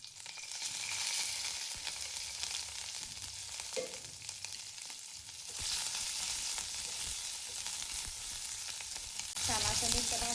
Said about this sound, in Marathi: छान अशा मिरच्या भाजून घ्यायच्या आहेत.